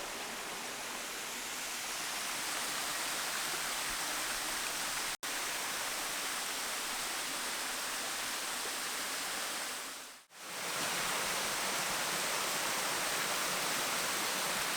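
Waterfall at Cancer Falls on Siquijor pours in a steady, loud broadband rush that runs unbroken nearly throughout, briefly dipping twice, with no voices.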